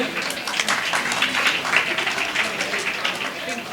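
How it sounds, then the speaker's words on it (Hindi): Scattered applause from a crowd at a religious satsang gathering, moderately loud and continuous, with a voice faintly speaking underneath. "मंत्री महोदय सुधीर जैन और प्रेमचंद बाबू जी, जोरदार तालियां बजाएं भाई।"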